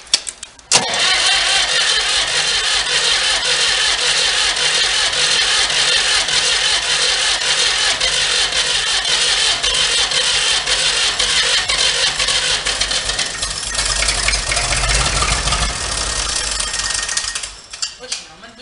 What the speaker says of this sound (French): Le moteur merdille un peu, je vais essayer de le démarrer.